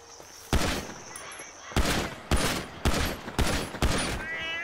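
Gunfire in the video game GTA 5, a series of loud, sharp shot bursts roughly every half second after a quiet start; no meowing cats stand out.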